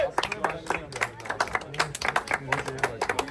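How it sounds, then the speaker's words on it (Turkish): A crowd at an outdoor calisthenics freestyle event claps and applauds in a busy, uneven patter, with voices talking and calling out over the clapping throughout. "Verin bir alkış be."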